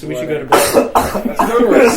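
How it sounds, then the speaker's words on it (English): A person coughs three times in quick succession, loud and close to the microphone, while talk carries on around the coughs. "coughing doesn't sound good on the podcast"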